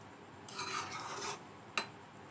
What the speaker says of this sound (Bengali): আবার একটু মিশিয়ে নেব।